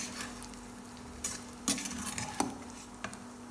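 Pork sizzles steadily in a hot pan as it browns, with scattered sharp clinks and scrapes from a utensil stirring against the metal.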